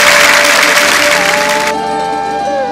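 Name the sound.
audience applause at a chèo performance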